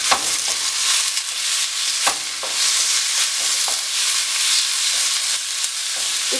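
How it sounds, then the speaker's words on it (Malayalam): Tomatoes sautéed with masala and sliced onions in a pan for Manjali biryani give a steady, close frying sizzle with occasional spoon scrapes and stirring clicks, no voices. "അത് ഇതിനകത്തേക്ക് ചേർത്ത് നന്നായിട്ടൊന്ന് വഴറ്റിയെടുക്കുക"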